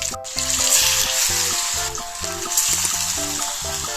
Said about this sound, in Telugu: చేప ఫ్రై చేయడం అయిపోయింది